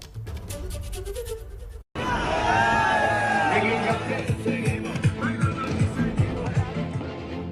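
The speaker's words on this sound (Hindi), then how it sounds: "कई जगह चुनावी रैलियां हो रही हैं, जिसमें जबरदस्त भीड़ उमड़ रही है।" A large crowd at an election rally, loud continuous babble with shouts and whoops rising after a brief cut, with voices calling out through the noise.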